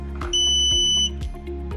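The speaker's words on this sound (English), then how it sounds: "The EV charger made a beep sound" A Growatt THOR 07 SE EV charger emits one clear, steady electronic beep lasting under a second, loud and close, over a constant low electrical hum with faint periodic clicks.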